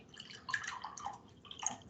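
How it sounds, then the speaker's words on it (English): Plain water pours into glasses in a thin, faint stream, giving soft trickling and dripping spatters over about two seconds, with short gaps between pours and no talk. "I'm filling them up with just plain water"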